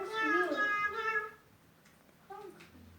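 Kittens meowing in a song, several short high-pitched meows sung in quick succession before quieter, softer meows near the end.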